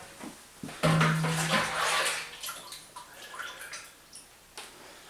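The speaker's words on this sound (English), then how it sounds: "It does drip a bit." Home-brewed kit beer pours from a jug through a funnel into bottles, a close liquid gush with splashes and scattered drips tapping afterward, fairly quiet.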